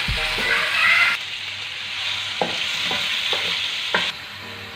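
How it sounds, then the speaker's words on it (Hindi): A steady sizzle of ginger garlic paste frying in a hot pan, with occasional scraping knocks from a spoon stirring it. Close and continuous. "थोड़ा सा लहसुन अदरक का पेस्ट एक चम्मच डाल के उसमें हम भून देंगे, इसको अच्छी तरह भूनेंगे।"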